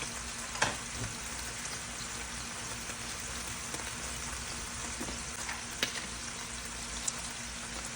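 Beef fries in ghee in a pan under shredded cheddar, a steady close sizzle with occasional small pops and utensil ticks, quiet overall and without talk.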